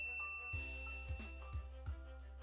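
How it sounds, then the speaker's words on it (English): A bright notification bell dings several times in an even rhythm, faint and alone over a low steady hum. "ring the bell to be notified about our latest videos"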